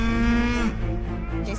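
A single close, loud cow moo, low and drawn out, ends with a short falling tail, then a lower grunt follows against a steady outdoor background.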